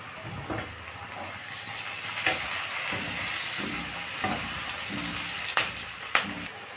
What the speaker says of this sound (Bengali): পেঁয়াজটাকে লাল করে ভেজে নেব। এর মধ্যে দিয়ে দেবো আমি টমেটো কুচি,